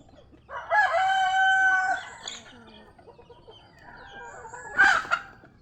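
Pet chickens and ducks kept as backyard fowl at feeding time: a rooster-like drawn-out crowing call, then a pause with soft clucks, and a sharp squawk near the end, close by with no talk.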